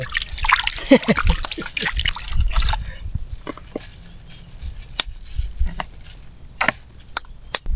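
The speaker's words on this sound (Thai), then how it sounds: "นี่คือการล้างถ้วยแบบวิถีชาวเขื่อน" Water trickles, drips and splashes as cups are washed by hand at a reservoir campsite, busy sloshing for the first few seconds, then scattered drips and small splashes spaced apart, close and moderately loud.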